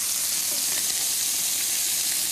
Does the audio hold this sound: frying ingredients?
yes